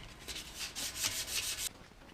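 Coarse sandpaper worked by hand across a steel wheel from a Subaru Forester during restoration, a series of quiet raspy back-and-forth strokes in a steady rhythm for about a second and a half, then stopping.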